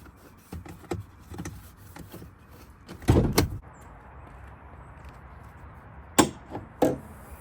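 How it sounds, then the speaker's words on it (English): Hood release and latch clunks on a Mercedes C Class, several sharp knocks and thuds spaced apart, with a louder burst mid-way and two more near the end, close and fairly loud over a quiet background. "All right, let's pop the hood."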